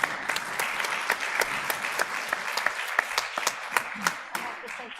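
Applause from a congregation at a Shabbat service, steady dense clapping with sharper individual claps standing out, sustained for several seconds at moderate distance.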